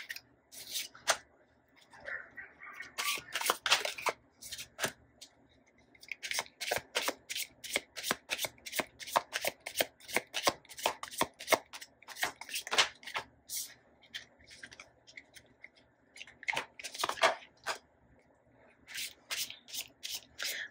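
Tarot cards are shuffled over and over in quick, crisp riffling bursts, close by, with short pauses between runs.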